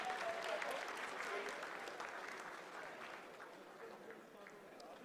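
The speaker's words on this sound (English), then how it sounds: "Lot of applause" Applause fills mission control during the Chandrayaan-3 lunar landing, steady dense clapping that slowly eases and is faintly picked up through a broadcast, with voices speaking over it.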